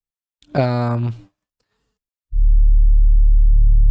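A synth bass tone with its third harmonic added, thickening into a fatter sound. It starts as a short harmonic-rich burst, goes quiet, then returns as a loud, steady low drone that holds to the end.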